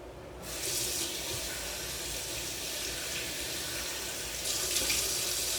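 A tap runs steadily into a sink for rinsing off a face treatment, a moderate continuous splash that swells a little louder near the end, with no voices.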